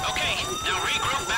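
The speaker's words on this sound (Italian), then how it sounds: "L'allarme è scattato lo stesso." Alarm goes off during a bank heist at the Pacific Standard in the video game GTA V, a loud, wailing, rising-and-falling electronic tone repeating in steady cycles.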